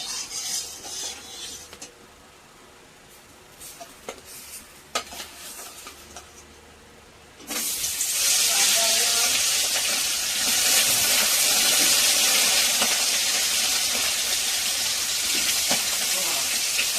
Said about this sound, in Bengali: মাছটা ভাজা করে নেব।